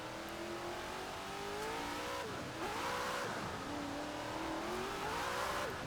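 A 1900 HP Shelby 1000 Mustang in Forza Horizon accelerates at partial throttle, its engine note climbing and dropping through gear shifts with faint tire squeal, steady and moderately loud with no talking.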